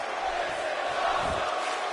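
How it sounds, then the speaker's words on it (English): Wrestling arena crowd during a match between AJ Styles and Sheamus, a dense roar of many voices sustained throughout, rhythmic chanting blended into loud continuous crowd noise. "Crowd chanting, "This is awesome,""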